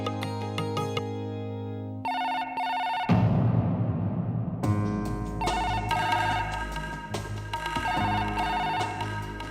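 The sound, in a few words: telephone ringing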